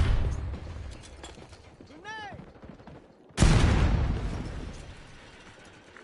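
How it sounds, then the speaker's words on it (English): A stun grenade going off in the Warzone video game: one sudden loud blast with a broad roaring decay, set against steady battlefield ambience, with a brief whooshing tone and a voice in the background just before. "Throwing a stun grenade"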